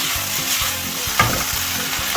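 Black bean paste stir-fried and worked loose in a very hot pan while making jajangmyeon, a steady close sizzle with soft scraping stirs and a couple of sharper clacks of the utensil against the pan.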